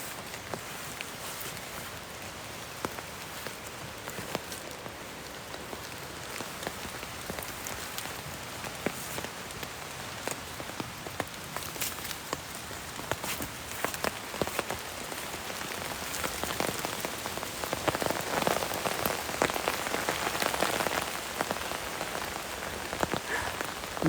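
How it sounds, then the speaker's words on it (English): Steady spring rain pattering on surfaces outdoors, a continuous dense hiss of drops with scattered louder splats, growing a little heavier in the last few seconds. "Now you hear that rain. I'm sure you do."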